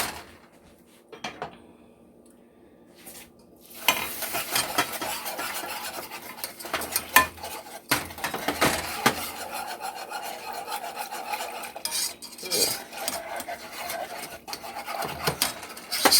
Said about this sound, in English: Add the 2 cups of milk to it, and we're going to whisk it around.